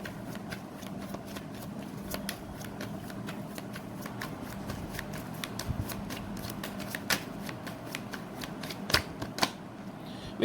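Tarot cards being shuffled and drawn in a steady run of soft papery riffles and flicks, close and fairly quiet, with a few sharper snaps near the end.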